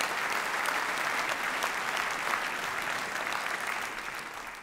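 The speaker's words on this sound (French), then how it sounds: "Je vous demande avec moi d'applaudir à nouveau Louis Vuitton pour la montre tambour Carpe Diem." Audience applause fills a prize-giving ceremony after a Louis Vuitton Tambour Carpe Diem watch is honoured, a dense, steady clapping from a large crowd that holds throughout and tapers slightly at the end.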